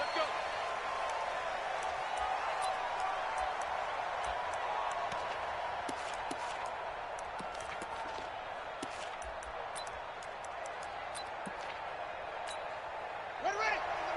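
Roaring stadium crowd in an American football video game between the Ravens and Colts, a continuous dense wash of cheering noise with scattered sharp thuds, under steady commentary speech.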